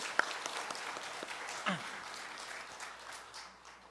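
A congregation claps for the Gabriel choir during a Wednesday morning church service. The applause is soft and steady, with a dense patter of hands that fades gently toward the end.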